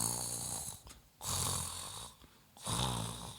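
A voice imitates a death rattle, a harsh rasping breath in the throat of a dying person, in three drawn-out snore-like pulls separated by short pauses, close and fairly loud.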